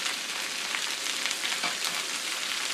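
Potatoes frying in a cast iron pan, a steady bright sizzle of hot oil crackling continuously at close range, with no talking.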